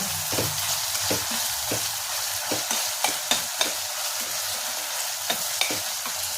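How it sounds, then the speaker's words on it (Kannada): Ginger garlic paste frying in a pan for mushroom biryani gives a steady close sizzle, with a spoon scraping and stirring in irregular knocks throughout. "ಚೆನ್ನಾಗಿ ಸ್ಮೆಲ್ ಹೋಗೋದಂತ ಉರಿಬೇಕು ಇದು ಸ್ಮೆಲ್ಲು ಶುಂಠಿ ಬೆಳ್ಳುಳ್ಳಿ ಪೇಸ್ಟ್ ಹಾಕಿದ ತಕ್ಷಣ ಗಮ್ಮತ್ತ ಸ್ಮೆಲ್ ಬರ್ತಾ ಇದೆ"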